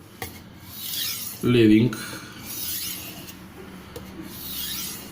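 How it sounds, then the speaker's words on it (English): A knife blade draws across a coarse sharpening stone while forming a micro bevel. A single short, gritty rasping stroke stands out under steady talking. "I'm exaggerating the amount of passes needed to create micro bevel"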